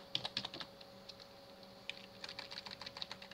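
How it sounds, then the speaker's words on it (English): Quiet keys clatter on a computer keyboard in short irregular bursts of clicks, with a brief pause midway before a quicker run of keystrokes. "Let's type that right."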